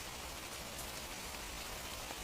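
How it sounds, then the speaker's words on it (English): Steady, dense patter of rain falling on an umbrella, continuous and close with no pauses or voices. "The rain falls on the umbrella."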